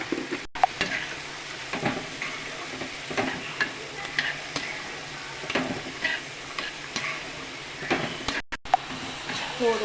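Chopped pirandai (adamant creeper) frying in a pan for chutney, a soft continuous sizzle broken by repeated light scrapes and stirs of a utensil against the pan.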